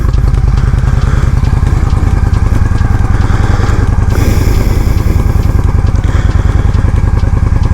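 Motorcycle ridden on a road in warm Texas weather, its engine a steady, loud, close throbbing drone with rapid pulsing and a brief surge of wind noise partway through.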